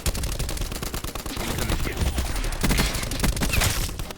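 A VAPR-XKG assault rifle fires in Black Ops 4 in rapid automatic bursts, dense and loud throughout, with in-game impacts layered over the gunfire.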